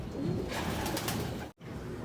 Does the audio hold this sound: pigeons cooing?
yes